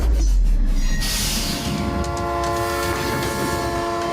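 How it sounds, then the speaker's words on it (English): A train barreling down the tracks, a loud continuous rumble with a sustained horn-like tone, steady throughout with no voices. "A train will be barreling down the tracks"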